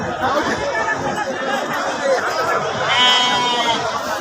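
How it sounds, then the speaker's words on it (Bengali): Female goats bleat repeatedly at a busy livestock market, loud and close, layered over constant crowd chatter and people talking nearby. "আর এই মেয়ে ছাগলগুলো"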